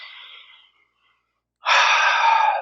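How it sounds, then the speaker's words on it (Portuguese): Deep breathing during a guided meditation: a soft, airy breath fades out into a moment of silence, then a louder, sustained breath rushes close to the microphone. "respirando profundamente."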